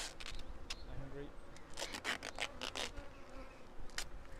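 Angry Africanised bees buzz from a colony packed into a chimney, a dense droning swarm punctuated by sharp scraping and rubbing noises, with people talking over it.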